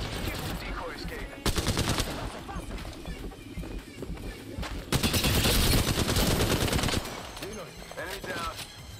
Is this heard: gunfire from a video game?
yes